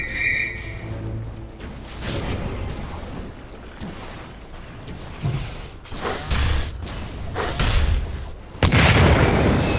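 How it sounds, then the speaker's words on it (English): Dota 2 match gameplay in a live esports broadcast, with a spell explosion and booming impacts over busy ability and combat effects, several heavy thuds and bursts building toward a loud final blast. "In comes the explosion."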